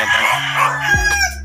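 A black sweater gamefowl rooster on a farm crows once, loud and close, its call rising and falling over a steady background of other birds, with no talking.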